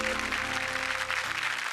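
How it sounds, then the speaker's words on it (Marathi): A studio audience on a Marathi TV game show gives sustained applause, a dense steady wash of clapping under sustained musical tones. "जोरदार टाळ्या झाल्या पाहिजेत दोघांसाठी."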